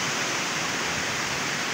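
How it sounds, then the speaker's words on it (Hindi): A waterfall pours in a steady, dense rush of water, loud and close, with no pauses or other sounds over the short stretch. "पानी के झरने हैं"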